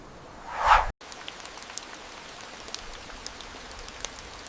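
Rain falling in the Amazon forest, a steady close patter of drops with scattered sharper impacts, continuing evenly and alone after a brief louder rush at the start.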